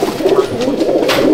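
Pigeons coo loudly and steadily up close inside a home loft in Barrackpore, North 24 Parganas, a continuous throaty rolling murmur.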